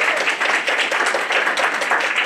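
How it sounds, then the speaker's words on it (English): Sustained audience applause for presenters at a lunch talk, loud and steady clapping throughout. "Can we please give our three presenters one more round of applause?"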